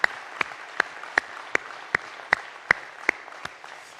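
An audience at a municipal New Year's greetings event applauding the staff: about ten crisp, evenly spaced claps in a steady rhythmic beat, sharp and moderately close, with little else around them.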